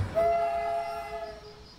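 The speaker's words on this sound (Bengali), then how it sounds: "চোখ খুলতেই দেখতে পেলাম ট্রেন মাথাভাঙা স্টেশনে ঢুকছে।" A train's horn blows in one long, steady, multi-toned blast that gradually softens as the train pulls into a station at night, with a low rumble of the train underneath.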